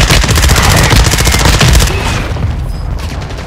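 Gunfire in the video game Call of Duty: Modern Warfare II, loud rapid bursts of automatic fire close by, continuous for about two seconds before easing into a dimmer rattle.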